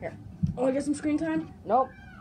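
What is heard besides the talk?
cat meowing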